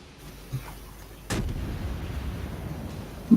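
Naval guns fire in the World of Warships game: one sharp, loud boom rolls into a lingering rumble, with a faint earlier thud and a small pop at the end.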